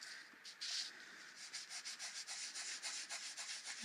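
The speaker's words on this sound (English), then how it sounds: "Really rubbing it in." Steady, rhythmic rubbing as glaze and chalk are worked into a surface for a batik effect, a soft close scraping swish repeating in quick strokes with no voices.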